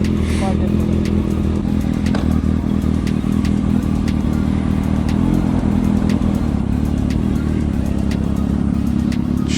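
A new Kawasaki Ninja motorcycle pulling away, its engine rumbling loudly and steadily up close with rough clattering texture throughout, no clear fade as it rides off.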